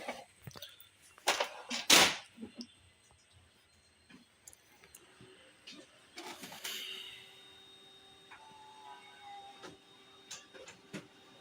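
Kyocera photocopier being switched back on: a few sharp clicks and clunks, then mechanical whirring and rattling as the machine starts, fading to a faint hum with occasional ticks.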